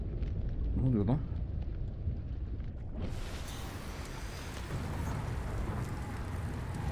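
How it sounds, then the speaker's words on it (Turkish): Thunder rolls and crackles in a stormy scene from the video game Subnautica Below Zero, arriving as a sudden loud broadband burst partway through, then a sustained rumbling roar over steady rain-like noise, with a voice speaking briefly early on. "Yıldırımlar mı çarpıyor?"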